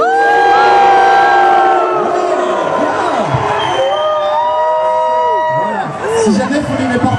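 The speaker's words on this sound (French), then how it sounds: "il faut huer les candidats" Crowd at a French 'loser tournament' contest event booing and jeering the contestants, a loud, sustained mass of voices with whoops and shouts rising and falling across the whole stretch.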